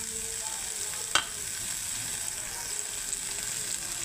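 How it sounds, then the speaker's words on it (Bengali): Potatoes sizzle in a pan with half-fried onions, a steady close frying hiss broken by one sharp utensil clink. "পেঁয়াজগুলো অর্ধেক ভাজা হয়ে গেছে, এখন আমি আলুগুলো দিয়ে দিচ্ছি। আলুগুলো ভেজে একবারে সেদ্ধ করে নেব।"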